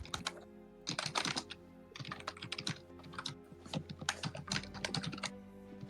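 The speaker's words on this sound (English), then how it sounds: "I got a new keyboard." Brisk typing on a new computer keyboard, dense clusters of crisp, close keystrokes in uneven bursts with short pauses between them, over a faint steady hum and no talk.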